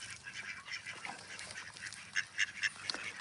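A mother duck and her young quack and honk outdoors in a lively cluster, steady chatter broken near the end by several sharper, louder calls, no voices.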